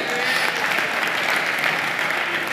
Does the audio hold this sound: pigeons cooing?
no